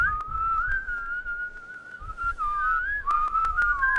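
A man whistles a lilting, sing-song tune, a clear steady melody that wavers in pitch and continues alone without talk.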